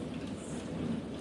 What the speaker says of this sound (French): c'est un mélange entre la pluie et la grêle.